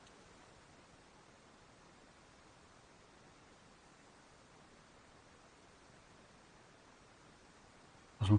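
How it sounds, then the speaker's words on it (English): Sea and ocean ambience in the Final Fantasy IX game at Madain Sari: a faint, steady hiss of distant surf that stays even throughout and ends in a brief louder thump. "I suppose it's the sea and the ocean behind you."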